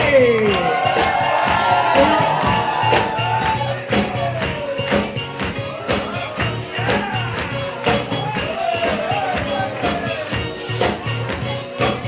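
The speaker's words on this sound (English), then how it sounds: "keep your hands clapping for the parents of our groom, Leslie and Nikki" A wedding crowd claps and cheers for the groom's parents, a loud, steady wash of applause with whoops and shouts running throughout, a voice speaking over it.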